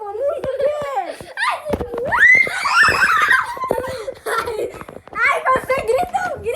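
A girl shrieks and squeals amid excited children's laughter and giggling during outdoor play in a forest, the high screams rising and falling over several seconds close by, mixed with chatter.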